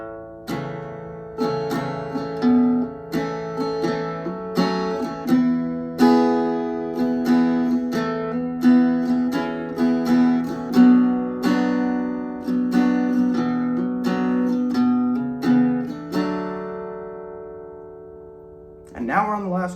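Acoustic guitar slowly strumming the chord progression of a song, each chord ringing out in a steady, unhurried rhythm up close, with a final chord change at the end. No talking.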